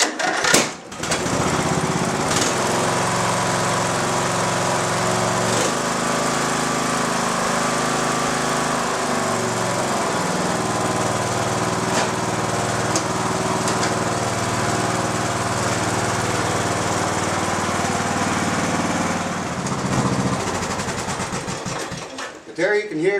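Lawn mower engine turning over on a recovered lead-acid battery with one bad cell, a steady loud mechanical cranking and running drone lasting about twenty seconds before cutting off.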